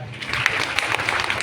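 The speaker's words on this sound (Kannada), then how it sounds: "ಅವನಿಗೆ ಚಪ್ಪಾಳೆ ತೊಟ್ಟಿ" A classroom audience claps for a student in a brief, dense burst of applause, steady and close throughout, with a faint voice underneath.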